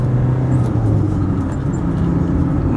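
A small, torquey car engine drones inside the cabin with a low, steady rumble and slight shifts in pitch as it pulls from low revs, close and loud, with no voices.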